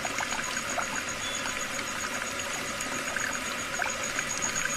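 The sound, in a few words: water running from a wash basin tap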